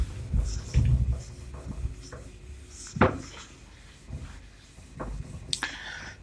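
Sparse scratching and tapping of a pen or chalk writing out a question during a mathematics lecture, with scattered knocks and thumps in a quiet room.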